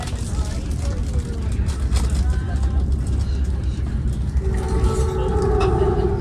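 Interior rumble of a northbound limited-stop Caltrain #425 riding through the Bay Area, a loud continuous low drone with rattling, under scattered conversation among passengers.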